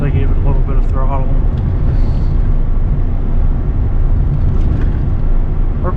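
A 24-year-old 8.1-litre gas V8 truck engine pulls a heavy trailer under light throttle at highway speed, a steady loud drone with road and wind noise throughout, and someone talks over it.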